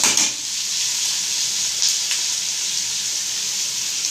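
Green chillies sautéing in a pan while making mint and coriander thuvaiyal: a steady, close hiss of sizzling oil runs throughout, with a couple of faint stirring clicks and no talking.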